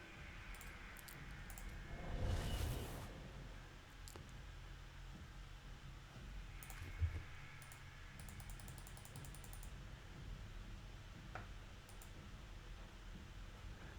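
Computer keyboard keys tapped to swap Necromancer skills during a Diablo 3 session, a few soft, brief clicks spread apart over a steady low hum, with no talking.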